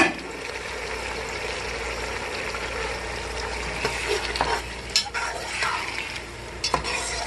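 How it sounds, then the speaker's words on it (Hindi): Meat and ground masala paste fry in a pan for pulao, giving a steady sizzle throughout. Stirring scrapes come through more loudly toward the end. "साथ ही साथ हम गोश्त भी डाल देंगे। इसको हम फ्राई करेंगे थोड़ा।"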